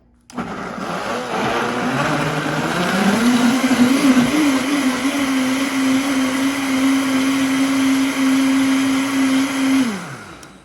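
A blender pureeing strawberries whirs loudly, spinning up to a steady high-pitched whine that holds for several seconds before winding down abruptly.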